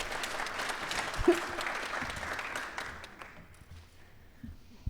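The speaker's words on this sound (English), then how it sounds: "give a little wave and a clap" An audience at a women-in-motorcycling panel event applauds warmly, a dense patter of clapping that fades out toward the end, heard from within the room.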